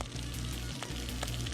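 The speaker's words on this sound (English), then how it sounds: "The beef looks good. It's been boiling for quite some time now." A beef pot roast in a pot gives off a steady bubbling, sizzling hiss with a low continuous hum underneath and occasional soft pops.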